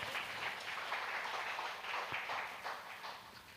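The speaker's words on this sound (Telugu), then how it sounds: "చప్పట్లు కొట్టు" A church congregation at a gospel meeting claps together in a soft, dense patter of many hands, steady and somewhat distant for a few seconds.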